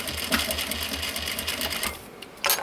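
A sewing machine stitches through thick recycled denim for a simple pouch, making a steady rapid mechanical whirr with rhythmic needle thumps, close and loud, then briefly slowing before a short final burst.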